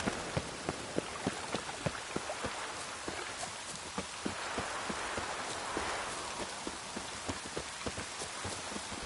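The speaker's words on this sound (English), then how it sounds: "Witches have conjured rain again." Steady rain falls in The Witcher 3 game, a continuous hiss of drops on surfaces with sharper, irregular droplet ticks scattered across it, fairly loud and alone without voices.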